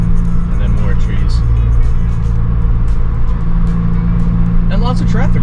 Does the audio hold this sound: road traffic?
yes